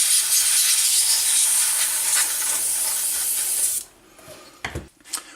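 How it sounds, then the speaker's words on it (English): An aerosol spray hisses steadily for several seconds onto computer parts during cleaning, then cuts off, followed by a few faint knocks and handling sounds. "A little bit of spray on here."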